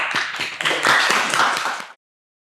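Podcast hosts break into a short burst of hand clapping lasting about two seconds, close and loud, then stopping abruptly into silence.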